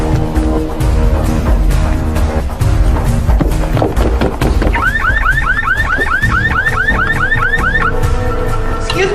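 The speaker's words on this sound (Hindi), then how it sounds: "वो गाड़ी का अलार्म बज रहा है" A green Volkswagen's car alarm goes off loudly and close by, cycling through a rapid rising whooping tone over several seconds amid busy street noise and background music.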